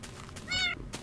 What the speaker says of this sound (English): I actually got a little Siamese kitten.